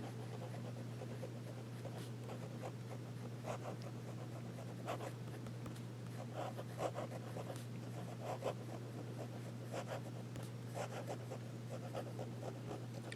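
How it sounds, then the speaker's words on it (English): A Sheaffer fountain pen scratches across paper in soft, close strokes, faint rhythmic scritching with short pauses between lines over a low steady hum. "How about reverse writing?"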